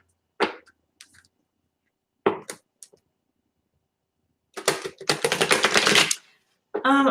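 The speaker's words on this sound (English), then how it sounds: "Let me just shuffle my deck." A tarot card deck is shuffled in short bursts, a few crisp isolated riffles followed by a longer fluttering cascade of cards, close and clear against silence.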